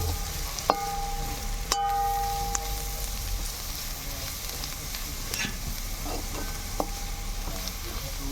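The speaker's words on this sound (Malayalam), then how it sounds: "അമ്മ മല്ലിപ്പൊടി ഇളക്കി കൊടുക്കുകയാണ് മിക്സ് ചെയ്തുകൊണ്ടിരിക്കുകയാണ്" Chicken curry with coriander powder frying in a pan, a steady close sizzle under repeated scraping stirs and a few sharp clinks of the spoon against the pan.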